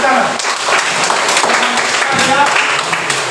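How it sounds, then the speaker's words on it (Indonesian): Audience applause in a classroom or lecture session, a steady wash of clapping from a group lasting a few seconds, fairly loud and close. "Tepuk tangan."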